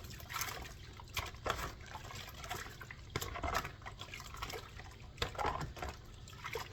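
Water sloshed and poured through gold panning dirt, with soft wet splashes and trickles in irregular bursts, close and fairly quiet, no voices.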